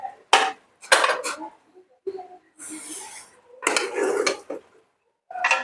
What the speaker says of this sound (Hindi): कुकर को हम खोल लेते हैं।